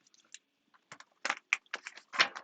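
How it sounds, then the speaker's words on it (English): Crisp, stiff riffles and slaps of a brand-new, hard-to-shuffle deck of cards in short bursts, a handful of quick papery flutters close by with brief pauses between them. "this deck is brand new and kind of hard to shuffle"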